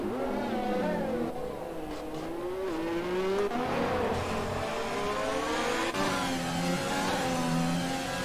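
F1 race cars in the F1 2020 video game at Monaco rev and accelerate, a continuous whining engine note rising and falling through gear changes, with brief tire squeal, near and steady throughout.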